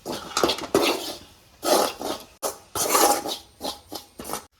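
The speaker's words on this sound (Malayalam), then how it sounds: "ഇതെല്ലാം നന്നായിട്ട് മിക്സ് ചെയ്തെടുക്കാം" Spice powders and ingredients mixed in a pot for a breadfruit curry, bursts of metal spoon scraping and clinking against the pan in an uneven rhythm, close, with no talking.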